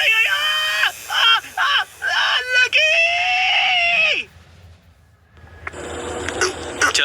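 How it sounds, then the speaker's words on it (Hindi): A man getting a tattoo screams and wails in pain in several loud, strained bursts, followed by a short pause and then a harsh, noisy outburst. "चिल्ला क्यों रहा है?"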